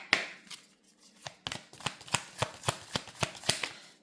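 Tarot cards being shuffled in a quick run of crisp riffling snaps, about a dozen evenly spaced sharp slaps close by, with no talking.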